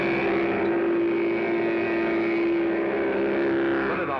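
A Mattel battery-powered toy hot rod engine noise mounted on a child's trike, a loud continuous buzzing motor drone imitating a real engine, steady throughout with a slight rise near the end.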